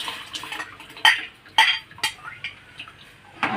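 Ground sago goes into hot water in a pan, heard as a few sharp metallic clinks and scrapes of a spoon against the pan with quiet stirring between them.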